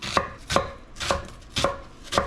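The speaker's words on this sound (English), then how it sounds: "Let's cut some onions. Just gonna use half an onion." A knife chops through an onion onto a cutting board, five crisp, evenly spaced strikes with short pauses between them.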